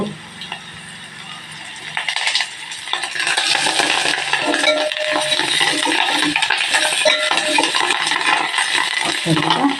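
Curry leaves crackling as they fry in hot oil for a green chilli leafy-greens dal, a loud, steady sizzle with stirring and utensil scrapes that swells after the first two seconds and holds to the end.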